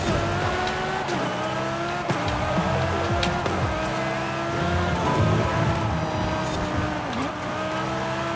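In Forza Horizon 5, a race car brakes hard into a sharp corner, its engine droning loud and close with downshifting pitch drops and tire squeal as it slows and turns.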